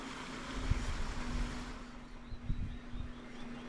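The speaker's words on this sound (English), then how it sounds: "I've got a creek next to me" A creek flows beside an electric trike (Lectric XP) riding at walking pace, giving a steady, fairly quiet rush of water under the faint, even hum of the motor.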